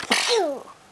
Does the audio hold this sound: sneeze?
yes